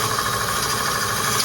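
A wood lathe spins as a sharpened gouge cuts stabilized wood, producing a steady, even whir and hiss at close range with no talking.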